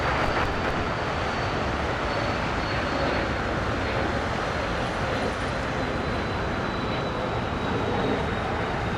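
Jet engines of a Qantas airliner at Los Angeles airport give off a constant, dense roar with a faint high whine running through it, loud and unbroken throughout.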